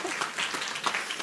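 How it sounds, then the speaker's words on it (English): Conference audience applauding the speakers at a violence prevention conference, a brief steady patter of many hands clapping at moderate level, with a few voices mixed in. "let's just do another round of applause for all of our speakers"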